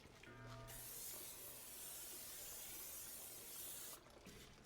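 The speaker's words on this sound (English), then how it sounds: "Now we're going to get some spray on there" Cooking spray hisses in one long continuous burst onto a hot charcoal grill before chicken wings go on, a steady close-up spray of about three seconds that cuts off cleanly.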